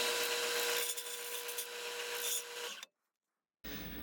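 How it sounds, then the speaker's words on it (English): Harsh, steady rasping of a file putting a small radius on an edge of a drum carder part for a few seconds, then a brief pause before the scraping starts again. "I'm going to put a little radius on this edge."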